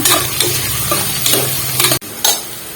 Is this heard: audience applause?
no